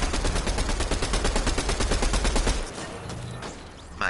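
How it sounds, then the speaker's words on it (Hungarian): Gunfire in Fortnite, heard as a long, loud burst of rapid automatic shots that stops abruptly, leaving quieter scattered noises before a brief final sound at the end. "De Dani, éppen valahonnan máshol is kapunk lövéseket"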